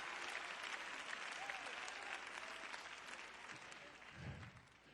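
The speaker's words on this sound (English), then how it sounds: "Clap your hands again, all ye people," A church congregation clapping hands, a dense continuous roll of applause across the whole stretch, fairly faint and distant, with a brief low voice murmur near the end.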